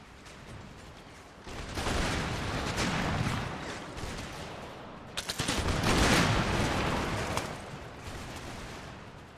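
Battle gunfire in the video game Empire Total War: rolling musket volleys crackle in two dense bursts with a faint mechanical clatter between them, mid-distance and moderately loud, with no talk.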